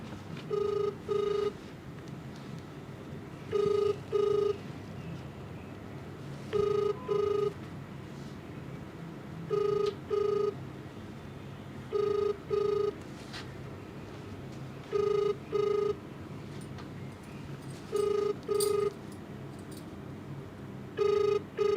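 A telephone rings in repeated double bursts at regular intervals, about seven or eight cycles, with no one picking up and a low hum underneath.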